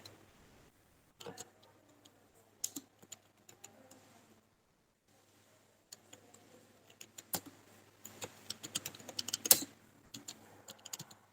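Light, irregular clicking of computer keyboard keys while typing in Tally accounting software, close and faint. A short pause is followed by a denser run of taps and a few sharper key strikes, with no talk.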